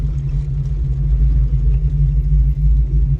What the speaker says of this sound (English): Clutch in, brake, stop the car.